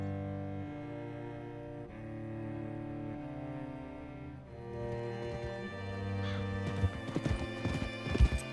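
Horse hooves clip-clop in the Red Dead Redemption 2 video game while riding, growing louder and more distinct in the second half over sustained tonal game music.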